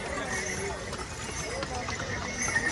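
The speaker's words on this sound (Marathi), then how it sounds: "पिट्टू घोडा नुसता लाईनीतच आहे." Pony horses plod in a line along the Kedarnath pilgrimage trek, their hooves making faint, steady clip-clop under continuous chatter and crowd noise.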